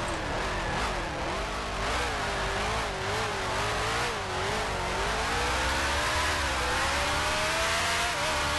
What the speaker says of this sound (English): you can really hear I'm having to really play with the throttle in the middle of the corner a lot just to keep the car settled